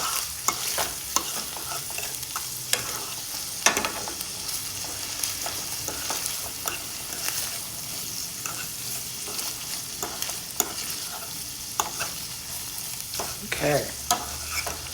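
Meat frying for a simple ramen-noodle casserole sizzles steadily in a pan, with intermittent scrapes and stirring clatters over a continuous hiss, close and moderately loud with no talking.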